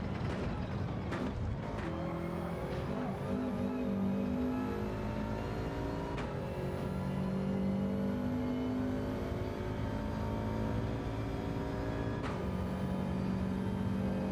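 A Subaru WRX engine in Gran Turismo 7 drones and revs through gear changes, with the pitch rising and dropping repeatedly as it accelerates and shifts, steady and up close throughout.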